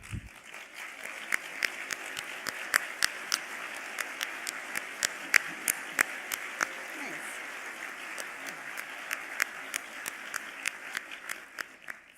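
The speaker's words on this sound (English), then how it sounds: "I'd like to give you a round of applause as well." Luncheon audience applauding at an awards event, a steady wash of many hands clapping with sharp individual claps popping out above it, sustained for the whole stretch at moderate loudness.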